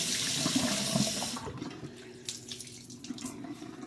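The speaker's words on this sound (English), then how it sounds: "So my water's kind of lukewarm. Just going to get my washcloth wet here." Lukewarm water runs from a tap to wet a washcloth, a steady close splashing rush for the first second and a half, then softer intermittent trickles and drips.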